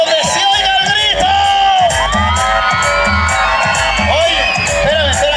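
Loud crowd at a jaripeo rodeo event in Tamazulapam del Espíritu Santo cheering, whooping and shouting continuously, with children's shrieks and dense overlapping voices throughout.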